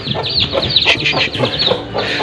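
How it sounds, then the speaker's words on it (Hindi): Hens and young chicks on a poultry farm clucking and cheeping, several close birds calling in quick irregular bursts, fairly loud, with no speech. "इन चिक्स को फिलहाल अंदर कर देते हैं।"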